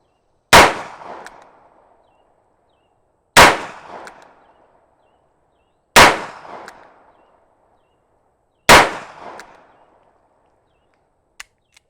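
Dan Wesson .357 Magnum revolver fired at a range, four loud, sharp shots spaced evenly a few seconds apart, each with a short echoing tail, followed by faint small clicks.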